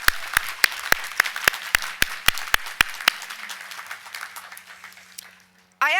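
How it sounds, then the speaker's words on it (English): A crowd at a college commencement ceremony applauds steadily, dense clapping with a few louder hand claps standing out, gradually thinning and fading before an abrupt cut. "Graduates, please join me in a round of applause to thank your loved ones for all their support."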